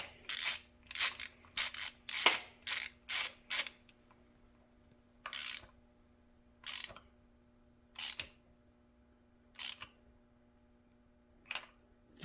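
A ratchet with an 18 mm socket tightening the ignition coil on a 1985 Honda motorcycle, a quick run of eight clicking strokes followed by five slower, spaced-out clicks, close and distinct with no talk.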